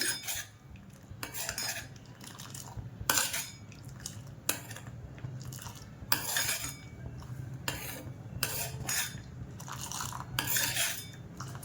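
A utensil stirs and scrapes steadily in a pan where cheese is melting into milk, with repeated rhythmic metallic clinks over a low background hum, close up and without speech.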